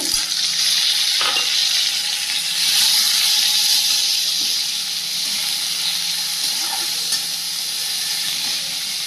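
Two crabs hit hot oil with bay leaf, chopped onion and panch phoron, giving a loud, continuous close-up sizzle with a steady hiss and occasional faint stirring clicks.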